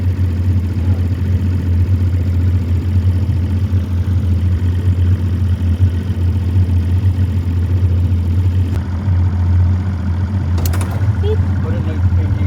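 A boat engine idles in neutral at close range, a steady low throbbing drone with no change in pitch. A brief clatter comes near the end, and people talk over it.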